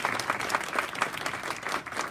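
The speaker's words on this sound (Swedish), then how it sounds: "Hon kan få en varm applåd" Warm applause from an audience at a Swedish leadership talk, welcoming a speaker onto the stage, steady dense clapping at moderate level throughout without speech.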